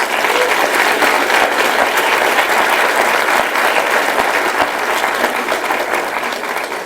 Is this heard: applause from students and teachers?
yes